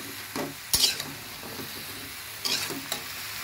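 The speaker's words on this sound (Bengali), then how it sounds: "দেখুন এখন আমি এটা কষিয়ে নেব" Katua stems, potato, pointed gourd, pumpkin and jackfruit seeds mixed with egg are sautéed in a pan, producing a low steady sizzle broken by a few distinct spatula scrapes and clanks against the metal.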